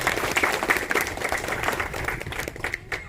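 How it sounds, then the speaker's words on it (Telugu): A crowd at a village school reopening applauds with dense, steady clapping that fades toward the end, lively and fairly close. "గ్రామ ప్రజలందరినీ, ప్రత్యేకించి డిఈఓ గారిని, ఎంఈఓ గారిని మనం అందరం కూడా గట్టిగా చప్పట్లతోని అభినందించాలి."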